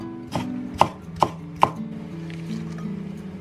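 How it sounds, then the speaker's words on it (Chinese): A knife slicing bird's eye chilies into rings on a cutting board: one soft cut followed by three crisp, evenly spaced chops, then quiet. "然后这个是小米辣哈，给它切圈。"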